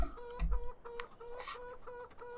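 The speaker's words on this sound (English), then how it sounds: "There's the chickens." Chickens in a farming video game cluck in quick, moderately faint repeated bursts over a low background hum.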